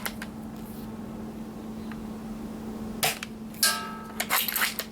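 An Ares Mauser Kar98k airsoft rifle with steel parts fires a few sharp, close snaps and mechanical clicks toward the end, over a quiet, steady background hum.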